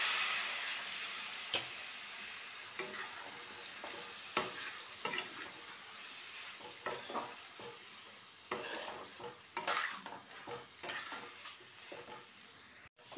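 Frozen green peas sizzle and fry in a wok while being stirred, with steady crackling and repeated scraping strokes of the spatula, close and clear.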